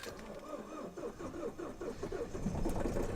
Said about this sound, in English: I'm gonna have to start the engine because I need to warm up.